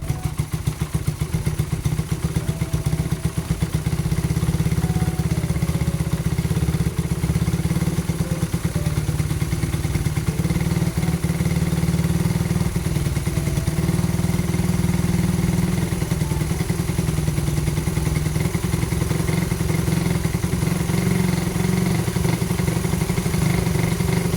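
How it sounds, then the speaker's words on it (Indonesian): Suzuki Satria FU motorcycle engine fitted with a PE26 carburetor and Predator CDI, revving hard and holding at high RPM with a loud, continuous buzzing drone and a slight waver, close up and without talk. "di sini aku nyari RPM tertingginya gimana."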